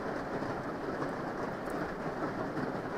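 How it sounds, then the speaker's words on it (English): Steady, dense rain hiss fills the space evenly, close and moderately loud, with no voices and no pauses. "That's the rain."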